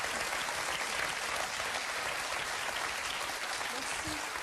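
A studio audience at a TV quiz show applauds loudly and continuously, a dense wash of many hands clapping together that holds steady throughout without pause.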